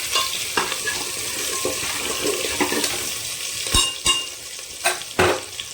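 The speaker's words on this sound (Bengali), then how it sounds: "তেলের মধ্যে আলুগুলোকে একটু হালকা ব্রাউন করে ভেজে নিতে হবে" Potatoes fry in oil with a loud, continuous close-up sizzle, punctuated by a few sharp scrapes and knocks of a utensil turning them toward the end, no voices.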